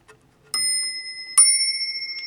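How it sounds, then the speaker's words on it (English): Two short rings from an old telephone's standard bell, which has no loudness adjuster, each a bright metallic burst with a sustained ringing tail, at a steady level in a quiet room. "You just got the normal bell with just a fixed loudness."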